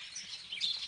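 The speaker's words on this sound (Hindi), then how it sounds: "यहाँ पक्षियों की चहचहाहट, सुबह सुबह बड़ा ही आनंद आता है भाई।" Small birds chirp near an ancient temple in the early morning, with bright high tweets in quick, irregular bursts, moderately near and clear over faint ambient noise.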